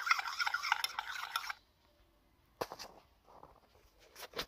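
A spoon scrapes and clicks against a bowl while stirring a thick fruit-peel face pack paste: a busy scraping burst at first, then a pause, then a few sharper taps and light rubbing strokes up close.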